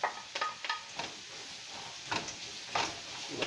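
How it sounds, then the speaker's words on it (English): White onions hit a hot pan and sizzle steadily, with a few scraping stirs and clinks of a utensil against the pan close by. "The white onions going in now."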